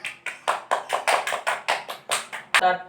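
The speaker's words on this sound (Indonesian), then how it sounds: "Tepuk tangan." Children in a classroom clap hands in unison, about a dozen crisp, evenly spaced claps in a quick steady rhythm, ending with one sharper final clap.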